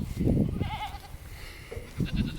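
Young goats on a farm bleat close by, with one quavering cry early on and a second cluster of bleats near the end over faint background noise.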